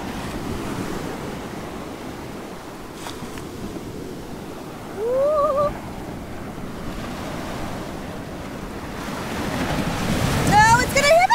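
Ocean surf washes ashore on an Assateague Island beach, a constant roar of breaking waves mixed with wind buffeting the microphone, rising louder toward the end, with faint voices in the background.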